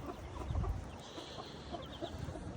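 Chickens, including a hen with her chicks, cluck and chatter softly in a coop, with a thin high peeping and some rustling underneath, fairly close and continuous.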